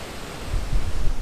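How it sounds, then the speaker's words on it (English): Ocean waves crash on rocks along the Madeira coast, a brief rush of broadband surf that swells in loudness, with wind buffeting the microphone. "I'm still trying to catch all of these waves that are crashing up."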